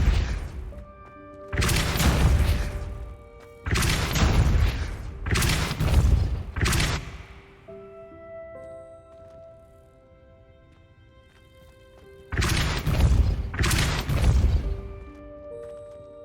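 The Depulso force spell cast in Hogwarts Legacy gives several loud, sharp whooshing blasts with crashing impacts in short bursts, separated by quieter stretches of soft tonal music.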